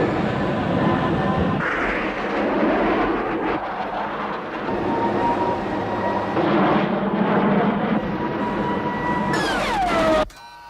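A military jet climbs steeply in an action film, a loud, dense roaring engine rush that holds steady, then swells into a rising whine and a descending sweep before cutting off abruptly.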